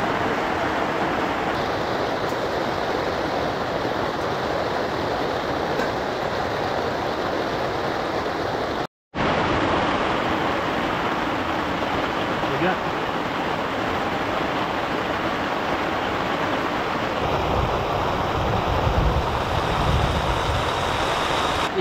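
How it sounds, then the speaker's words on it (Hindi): Heavy rain drums without a break on a camping tent at night during a thunderstorm, a loud, dense wash of sound. It cuts out for a moment and then returns, and a rumble swells near the end. "बारिश बहुत ज़्यादा तेज़ हो रही है"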